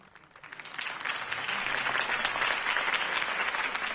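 Crowd applause in the Batman video game from Telltale, breaking out after a campaign speech for Harvey Dent and swelling into a steady, dense clapping that holds to the end.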